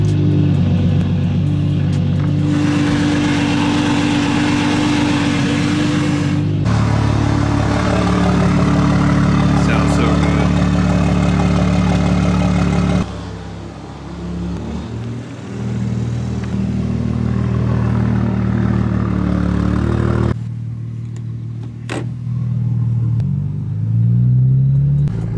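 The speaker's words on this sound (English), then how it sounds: "let's hop into the car, start it up, go grab some coffee" A Toyota Supra MK5 engine starting and running as the car heads out for coffee: a loud, steady rumble that holds for most of the clip, with the engine note shifting in several distinct steps.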